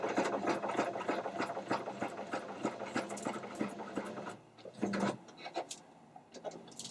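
A sewing machine stitching upcycled denim jeans: a rapid, steady mechanical chatter of close stitches for about four seconds, then a pause and a few short bursts and clicks.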